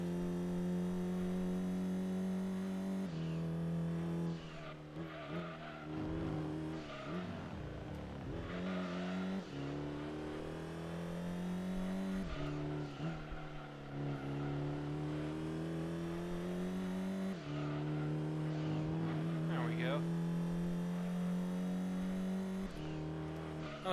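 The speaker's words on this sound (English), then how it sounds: "I'm driving an Alfa Romeo, the starter car of the game" An Alfa Romeo starter car in Gran Turismo 2 on a nighttime track, its engine droning steadily and rising and falling through gear changes and revs, continuous and close with no talk.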